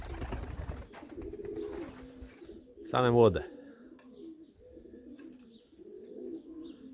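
A brief burst of cooing and fluttering white homing pigeons in an enclosed pigeon loft, with someone talking quietly before and after.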